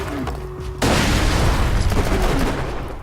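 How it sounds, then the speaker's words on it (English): A grenade goes off in Borderlands 2 among bullymongs: a sudden loud blast with a sustained roar of debris and crackling gunfire-like noise that fills the rest of the moment. "Throw a grenade in them."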